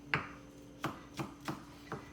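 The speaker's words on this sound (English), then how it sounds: "So just chop the ginger." Ginger is chopped with a knife on a cutting board in a home kitchen: five crisp, sharp knocks, one at the start and then four in a loose rhythm, close and clear over quiet background.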